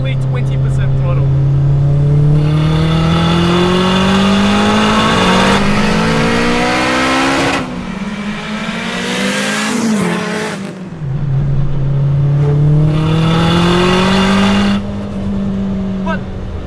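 A turbocharged K-swapped Honda Integra Type R DC2, heard from inside the cabin, pulls hard through its gears. Loud rising engine notes repeatedly climb and then drop at each shift, with a brief lull partway through.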